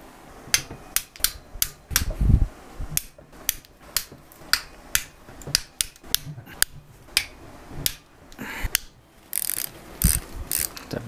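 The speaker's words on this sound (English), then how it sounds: "So I'm just going to go ahead and loosen them all off" A ratchet loosens the engine case bolts on a Honda CB350 during case splitting, sounding as a series of close, sharp clicking bursts in an uneven rhythm, with a few brief pauses between the bolts.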